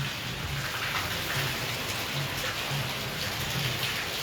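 Heavy thunderstorm rain over farmland pours down steadily, a dense, loud hiss of drops on surfaces with no clear thunder and no voices.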